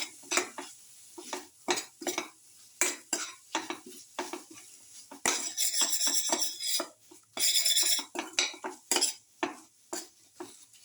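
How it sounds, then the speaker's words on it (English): A utensil repeatedly presses and scrapes tomato pieces against a pan while cooking a garlic potato tomato casserole, with rhythmic clinks, sizzling and a couple of longer scraping bursts. "salt and crush the tomato pieces"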